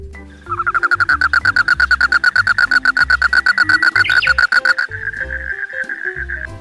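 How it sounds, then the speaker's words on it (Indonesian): A green frog calls in a rapid, rhythmic series of bright pulsed croaks, loud and close, running steadily for several seconds before breaking off into a brief sustained tone, over a quiet background. "ada katak hijau teman-teman"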